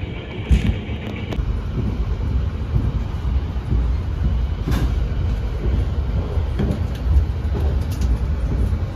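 An Argo Semeru executive-class train hauled by a Red and Blue livery locomotive rolls along, its steady rumble and clatter continuous and fairly loud, with a few sharper knocks and rattles on the rails.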